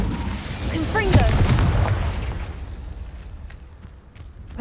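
A Confringo blasting spell bursts in a sharp, loud explosion in the Hogwarts Legacy video game. Its booming impact rolls off into a fading rumble that trails away over a few seconds.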